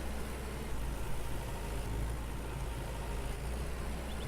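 A tractor engine runs steadily while cultivating a field in the farming game Farmer's Dynasty, giving a continuous, even drone with no speech.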